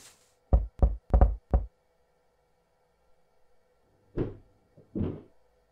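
Four quick, close knocks on wood in a fast run, then after a pause two more spaced, heavier knocks, all sharp and distinct against near silence.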